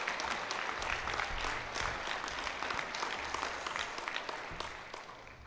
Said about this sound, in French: c'est le temps d'applaudir chaleureusement notre nouvelle docteure